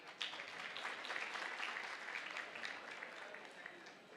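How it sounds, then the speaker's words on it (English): An audience in an auditorium at a convocation ceremony gives a continuous wash of applause. The clapping sounds faint and distant and holds steady for the whole stretch. "please give a clarion clap"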